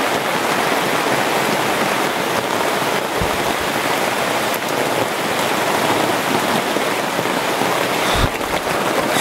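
Heavy rain pours down steadily near a hut in the forest, a dense, loud, continuous hiss with a couple of brief thumps.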